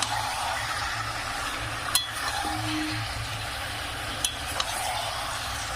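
Chicken pieces frying in oil for a chicken curry give a steady, moderately loud sizzle throughout, with a few sharp clinks of a utensil against the pan.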